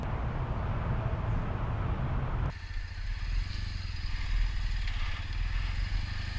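Triumph Bonneville T100 motorcycle engine running close by with a low rumbling throb, shifting in tone partway through as it pulls away, steady and moderately loud with wind noise.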